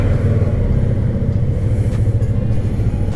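A Keeway K300RR motorcycle idles in neutral with no silencer muffling its raw exhaust, giving a loud, close, steady low rumble with an even throb and no revving.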